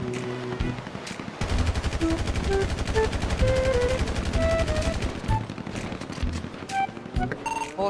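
Police shootout in GTA 5, sustained rapid automatic gunfire rattling for several seconds in a dense, loud burst, with a few scattered single shots before and after.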